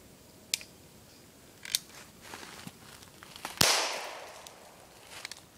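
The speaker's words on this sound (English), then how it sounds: "we're going to fire at this tree right over here and see what happens." A 12-gauge shotgun shell rigged to fire from a flare gun goes off at a tree outdoors, one sharp loud blast with a decaying tail, preceded by a few faint clicks.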